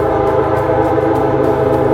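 A loud, steady rumble of a train rolling past close by, with a sustained droning tone and no voices.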